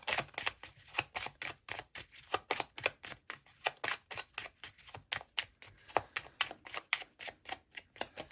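Flower Petals Oracle cards being shuffled by hand, a rapid run of crisp card riffles and slaps repeating steadily for several seconds, close and fairly quiet with no talking.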